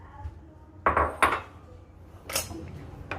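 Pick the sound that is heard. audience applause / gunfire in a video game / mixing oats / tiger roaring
mixing oats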